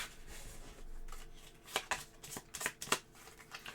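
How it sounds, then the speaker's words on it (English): Cards riffle and snap in a few quick bursts as a deck is shuffled close up during a deckbuilding board game, with soft handling noises in between. "We're going to shuffle up"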